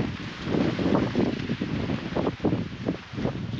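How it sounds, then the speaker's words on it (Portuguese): Strong wind blows across a rural outdoor spot on a farm, roaring steadily into the microphone with gusty swells and rustling, no voices. "Que vento que tem aqui"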